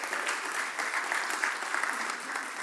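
An audience claps steadily throughout, a dense, even patter of many hands at moderate volume with no voices on top.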